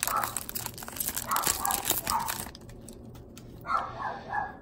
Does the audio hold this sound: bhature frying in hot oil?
no